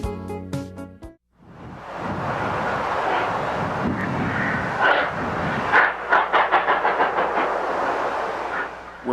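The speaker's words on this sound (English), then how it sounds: "We're back at Sublet as our passenger train continues on its way" A passenger train on the Cumbres & Toltec line runs in the Trainz 12 railway game. Brief tones open the stretch, then a steady rolling rumble sets in, with rhythmic clicking of wheels over rail joints building toward the end.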